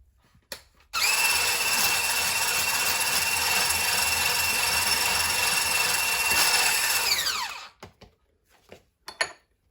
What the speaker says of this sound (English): And I'm going to whisk this for 3 minutes.